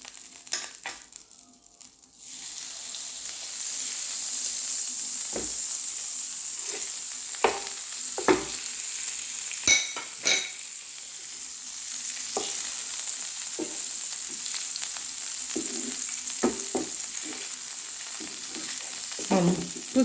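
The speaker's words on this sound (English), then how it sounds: "We're going to put it into the frying pan." Butter sizzles in a frying pan with a constant bright hiss, broken by scattered clicks and scrapes of a utensil moving it around the pan.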